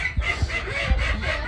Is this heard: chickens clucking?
yes